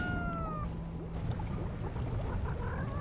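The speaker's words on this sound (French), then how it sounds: "petit bruit de chat." A short cat meow sound effect from the video game Alice sounds near the start, then fades into quiet game background noise, with no talking.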